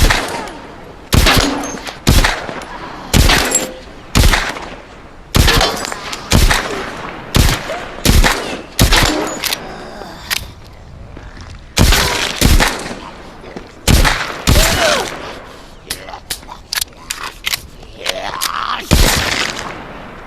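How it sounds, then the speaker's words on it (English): Handgun shots crack loudly and repeatedly in The Walking Dead: Saints & Sinners, firing in uneven bursts of single shots with short pauses between them. "Shoot him in a kneecap."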